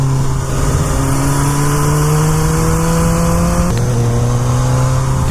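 A BMW S1000R motorcycle engine revs up, its pitch climbing steadily through the gears, dropping at a shift, then rising again. The engine is loud and close and stays clear of any talk.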